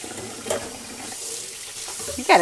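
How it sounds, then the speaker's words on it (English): A kitchen tap runs steadily while hands, a lime and a knife are rinsed under it, with a couple of louder splashes near the end and no talking. "Wash my hands, wash the lime, wash the knife"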